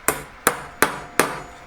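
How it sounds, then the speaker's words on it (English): Hammer tapping down a piece of work: four sharp, evenly spaced metallic strikes close by, each ringing briefly before the next blow, with no voices. "I'm just going to start by hammering it"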